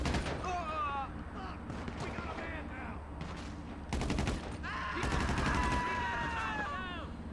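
Bursts of rapid carbine gunfire in the video game GTA Online, sharp cracking volleys in clusters under someone talking over the action.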